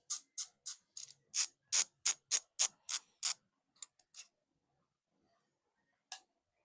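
Genova Mars mountain bike hub ratchet clicking: a run of about ten crisp, evenly spaced bursts of clicks, close and fairly loud, then a few scattered clicks with quiet gaps between them.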